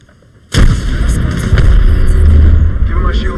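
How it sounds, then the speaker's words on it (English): Gunfire hitting the player in a Horizon match, a loud dense burst of shots with booming low impacts that starts abruptly after a short quiet moment and continues steadily. "Darn, shots fired and they're hitting me."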